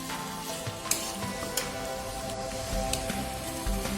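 Chicken masala stirred into a frying pan while cooking chilli chicken, a steady close sizzle with scraping spatula strokes and occasional soft taps throughout, no talking.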